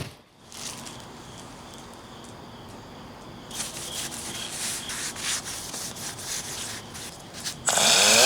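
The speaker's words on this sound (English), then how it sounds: "let's move on to the little bit higher grit sandpapers" Higher grit sandpaper rubs by hand over a Hoshino Impul D-01 Silhouette JDM wheel rim, giving steady close scratchy strokes that grow louder and more rhythmic midway, then end in a loud hiss.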